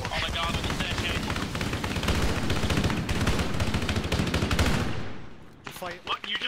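Sustained rapid automatic gunfire in the video game Halo, a dense, loud barrage of overlapping shots that runs for about five seconds, then drops away into a few scattered sounds.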